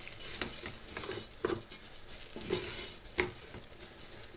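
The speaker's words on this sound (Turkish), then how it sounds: "Biraz un, unun kokusu çıkana kadar kavuralım." A tablespoon of flour with two cloves of garlic, broken into pieces, dry-roasting in a pan for Turkish lentil soup: faint, scattered scraping stir strokes over a soft, quiet sizzle.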